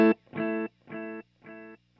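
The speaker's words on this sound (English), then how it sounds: "add in a 2nd delay that's just a basic quarter note delay." Electric guitar through a basic quarter note delay: one short plucked chord followed by three evenly spaced repeats landing on the beat, each a little quieter than the last, alone with no talk.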